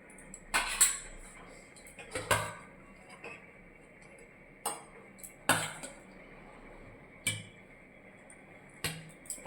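Vegetable curry of beans, eggplant, radish, lentil dumplings and potato being served into a bowl in a home kitchen, with repeated sharp clinks of a spoon on dishware spaced every second or two over a quiet background.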